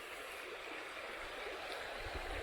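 River water rushes quickly past, a steady close hiss and gurgle with no pauses and no voices.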